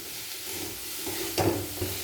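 Potatoes and carrots frying with turmeric and salt are stirred in a pan, a soft steady sizzle with one brief, louder scraping stir partway through, close and fairly quiet, no speech.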